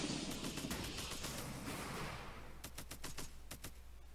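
Defense turrets fire in the strategy video game REDCON as a dense rattling barrage, then separate sharp bursts in quick succession. The shots are fairly quiet and sit over steady game background noise.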